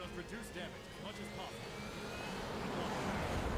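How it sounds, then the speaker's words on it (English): Aircraft engines in a video game roar as planes fly off into the sky, a faint, rising jet-like rush that builds steadily over a few seconds. "their engines roar as they fly off into the sky"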